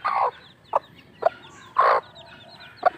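Newly hatched Kaber x BPR cross chicks give short, bright clucking calls in a few separate bursts, close by with quiet pauses between them.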